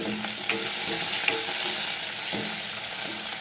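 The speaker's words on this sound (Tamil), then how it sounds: "பெரிய வெங்காயம் ஒரு வெங்காயம் கட் பண்ணி வச்சுருக்கேன் அதை போட்டுக்கலாம் நல்லா வதக்கிக்கலாம்" One sliced large onion sautés in a hot pan for a pepper-garlic kuzhambu, a steady loud sizzle with occasional scraping stirs, close and continuous with no talk.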